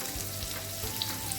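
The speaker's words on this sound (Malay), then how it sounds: "Baru kita masukkan bawang merah." Shallots and whole spices (cinnamon, star anise, cardamom, fennel) sautéing in hot oil for sardine biryani give a steady, close sizzle and frying crackle throughout, with no voices.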